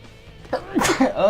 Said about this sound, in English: Pardon me in advance, I'm gonna sneeze.